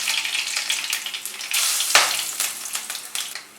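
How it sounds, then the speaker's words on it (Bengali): Whole cumin, cardamom, clove, cinnamon and peppercorns fry in hot mustard oil, giving a loud, continuous crackling sizzle that swells and pops, with a sharp clink of a utensil partway through; no voices. "ফোড়নটাকে জাস্ট 15 সেকেন্ড আমি ফ্রাই করে নিয়ে"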